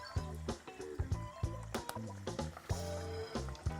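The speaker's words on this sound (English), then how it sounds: "with my tongs, I'm gonna drop it into my oil" Chicken wings coated for frying are lowered with tongs into canola oil at 360°F, giving irregular wet splashes and bubbling hisses close by, with no talk.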